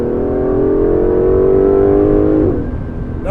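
A 2018 Aston Martin DB11 accelerates hard on a public road. Its engine note holds a loud, rising roar for about two and a half seconds, then drops off as the throttle lifts and a brief whir follows.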